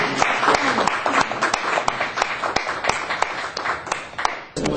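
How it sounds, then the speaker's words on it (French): An audience at an academic seminar breaks into steady, fairly loud applause, many overlapping claps filling the room with a few sharper individual slaps standing out. "Bon, alors applaudissements"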